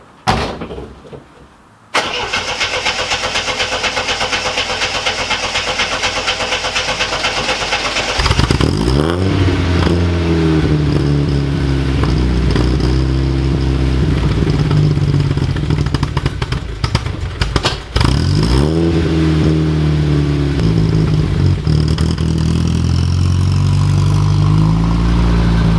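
A Pontiac Trans Am WS6 engine cranks and fires after a short quiet start, then settles into a loud, steady idle broken by repeated revs that rise and fall, recorded close with no talking.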